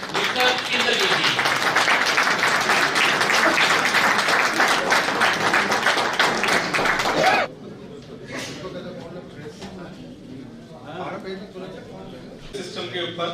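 Loud, dense applause greets a speaker being welcomed onto a stage, a steady clapping roar for about seven seconds before cutting off abruptly into quieter room sounds and scattered noise.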